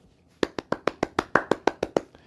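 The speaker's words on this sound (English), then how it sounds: "Here we go, golf clap." A golf clap: about a dozen soft, evenly spaced hand claps in a quick steady rhythm, close and light, following a brief quiet start.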